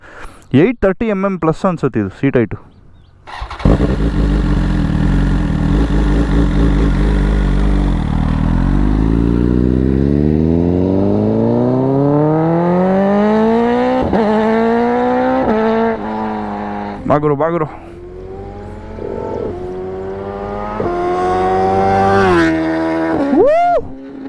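A tall dirt motorcycle's engine idles, then revs up in rising, roaring sweeps with sharp throttle blips and falling drops, loud and close, with people talking around it.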